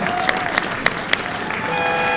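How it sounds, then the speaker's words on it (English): Scattered applause from a crowd watching Janice Walth at a visually impaired para archery gold final, a few sharper claps standing out over a steady, moderately loud wash of clapping. "the crowd is sharing their appreciation of Janice's zeroing in or dialing in on things"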